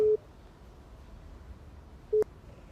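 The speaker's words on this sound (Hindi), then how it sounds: "उसका नंबर पता नहीं एंगेज आ रहा है, बिजी आ रहा है सर" A telephone busy signal plays two short, clipped beeps, one at the start and one near the end, separated by quiet line hiss, faint and alone.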